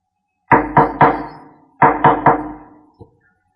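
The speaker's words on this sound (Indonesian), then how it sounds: "Terdengar suara ketukan pintu di rumah kami malam itu." Someone knocks on a door at night: a loud, close rap of three knocks, a brief pause, then three more, followed by a single faint tap.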